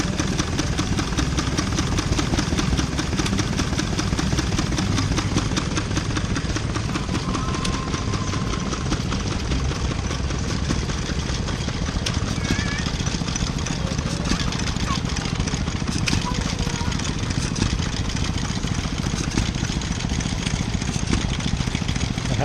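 Old stationary engine at a steam rally, running and pumping water, popping away steadily at mid distance through the whole stretch, with outdoor crowd noise and people talking nearby.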